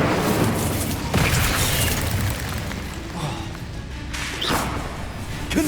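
Incendio fire spell in Hogwarts Legacy, a loud whooshing, crackling burst of flame with several sharp impact-like hits around one and four-and-a-half seconds amid ongoing game noise.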